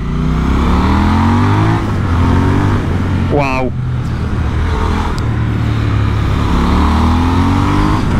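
Retro-styled enduro road motorcycle engine revving loudly and steadily, with a brief rise and fall in pitch mid-clip, while a rider speaks a short exclamation.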